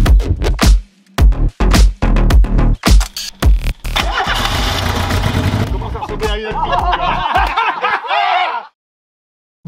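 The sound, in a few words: Renault 4L prototype race car engine starting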